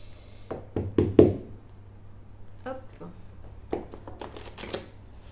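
Oracle cards shuffled by hand, a few quick riffling and tapping bursts close to the mic with soft knocks between them, heard without talk over them.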